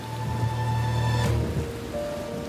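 Rain falling at night by a river in a Bengali village ghost story, a dense steady patter with a low rumble and a sustained tonal drone underneath, no voices.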